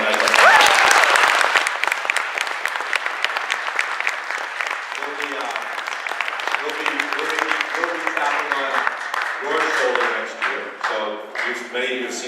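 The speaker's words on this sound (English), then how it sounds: "I want to ask you to give a big round of applause for our alumni" Sustained audience applause at an alumni assembly, loud and dense for the first several seconds, then continuing underneath as a person talks over it.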